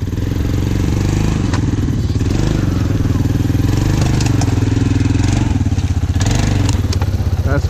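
A motorbike engine runs loud and close throughout, a constant throaty roar with slight rises and dips in pitch as it revs, with occasional clattering and wind buffeting layered on top.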